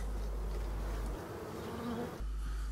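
Black honeybees of Brittany buzzing at a Voirnot hive in a forest during a spring inspection, a steady close swarm hum that dips briefly in the middle, with no speech.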